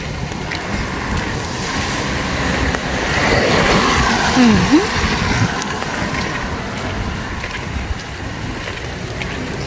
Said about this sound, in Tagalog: naririnig nyo naman ang harurot ang harurot ng sasakyan